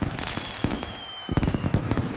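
Cartoon fireworks burst during a Christmas scene, a rapid run of sharp crackling pops and bangs that pause briefly and then resume in a dense, loud cluster.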